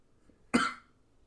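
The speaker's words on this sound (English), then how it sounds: "Random coughing in the background." One short, sharp cough rings out clearly in an otherwise quiet room, a single isolated burst lasting a fraction of a second with no talking around it.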